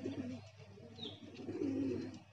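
Pigeons cooing close by, low soft throaty coos in two drawn-out phrases with a brief faint chirp between them, no talking.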